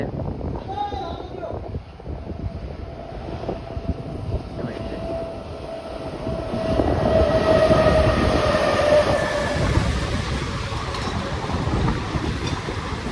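A train bound for Surat rumbles past close by, a continuous heavy roar of wheels on rails that swells midway and keeps going with a faint whine.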